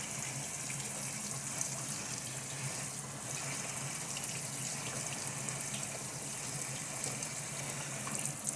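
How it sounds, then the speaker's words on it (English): Steady running tap water splashing into a strainer in a sink while seeds are rinsed, continuous and fairly close, with no talking. "Rinse out the seeds."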